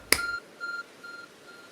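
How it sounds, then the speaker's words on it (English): A sharp click is followed by a few evenly spaced electronic beeps from a glowing object in Pokémon Legends: Arceus, thin and high-pitched, growing slightly fainter against a quiet background. "There's a glowing, beeping object over there."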